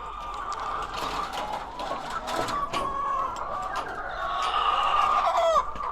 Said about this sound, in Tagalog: pakain muna ako sa aking mga alagang manok